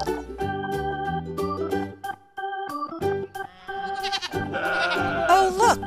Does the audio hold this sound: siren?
no